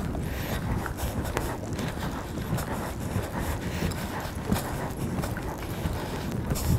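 Desperados, a dressage horse, moves under his rider. His hooves give a steady, rhythmic clip-clop on the arena footing against light wind noise, close and fairly quiet throughout.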